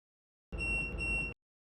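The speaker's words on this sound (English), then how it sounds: "2 short remote beeps." Two short electronic beeps come from a Lumiax solar street light controller remote, heard close and clear, back to back with a tiny gap, alone in silence.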